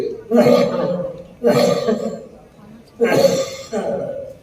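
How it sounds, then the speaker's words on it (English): Three bursts of coughing come in a steady rhythm about a second and a half apart, each harsh and fairly loud with a short raspy tail. "Now, another episode is coughing during illness. Patient was coughing like that."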